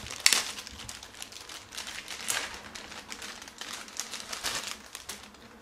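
Plastic packaging of a Logitech Brio 4K webcam being opened, with soft crinkling and rustling that comes in quiet, scattered bursts, close to the microphone and with no voices.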